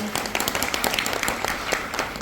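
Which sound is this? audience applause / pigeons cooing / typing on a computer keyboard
audience applause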